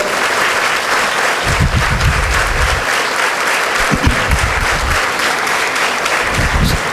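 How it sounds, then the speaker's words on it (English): Students rise in a nursing college lamp lighting ceremony hall and give their parents a standing ovation, a dense, steady wash of clapping that fills the room for the whole stretch, with scattered lower thumps beneath. "Please stand up and give an applause to your parents"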